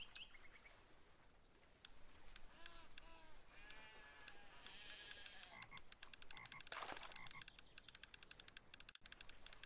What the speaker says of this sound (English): Too many sheeps bay in the background.